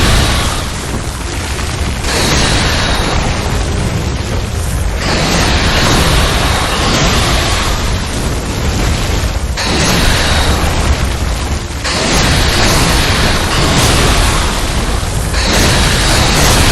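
Repeated heavy booming blasts from the Dark Beast Paarl boss in Bloodborne, loud crackling bursts arriving every couple of seconds, filling the sound with dense rumbling noise and no speech.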